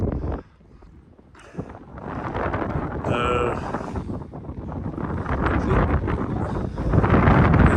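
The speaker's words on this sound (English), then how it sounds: "That wind is getting up, so I'm going to turn away for the wind." Gusty wind blows across open moorland, buffeting the microphone in loud, rumbling surges that ease briefly and then build stronger toward the end, with no speech heard.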